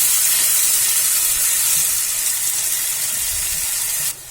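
Ginger-garlic paste frying in a pan for paneer bhurji, a loud, steady close sizzle and hiss that drops off abruptly at the very end.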